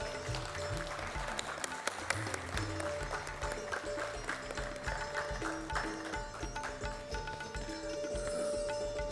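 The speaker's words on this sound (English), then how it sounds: "Please give him a big round of applause." An audience applauds for a dignitary being felicitated at a professional seminar, moderately loud continuous clapping from a seated crowd with a steady hum underneath, lasting about nine seconds.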